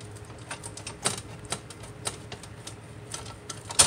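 A knife cuts through a homemade Dollar Tree pizza crust, giving a few sharp, crisp cracks and taps spread over a few seconds against a quiet background.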